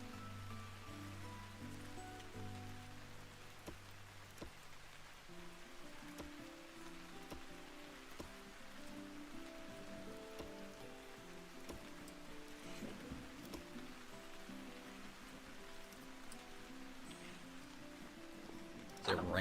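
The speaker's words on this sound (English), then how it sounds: "We don't get much rain here at this area, so it's pretty nice when it does rain." Rain falls in the Vintage Story video game as a faint, continuous patter on surfaces, steady throughout, beneath low background music tones.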